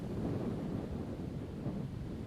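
Wind sweeping across an open golf course and buffeting the microphone: a steady, fairly quiet low roar with a gentle rise and fall, and no voices.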